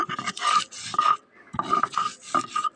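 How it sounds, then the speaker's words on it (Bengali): Onion being ground into paste on a grinding stone: repeated rough rasping strokes in two bursts, close and fairly loud, with a brief pause between. "পেঁয়াজগুলো এখন আমি বেটে নিব"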